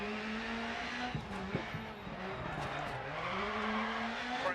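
Rally car in DiRT Rally sliding on a handbrake turn, engine droning steadily with a drifting tone while tyres scrub and skid in a continuous moderate wash, no voices.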